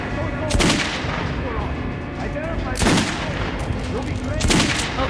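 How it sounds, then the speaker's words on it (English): Pistol shots fired at training dummies in the shooter game Metro: Last Light ring out as three sharp, loud bangs spaced a couple of seconds apart over a dense, rumbling game backdrop. "Okay, so pistol. Try shooting for the best of the regular dummies."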